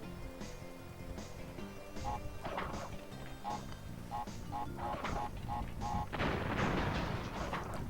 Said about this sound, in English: Nice exploding minecart.